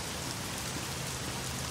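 Steady rain in The Medium horror game falls as an even, dense hiss with no pauses, close and constant.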